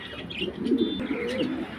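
Large-breed pigeons at a farm cooing, a close, low throaty coo rolling for under two seconds with a faint chirp above it.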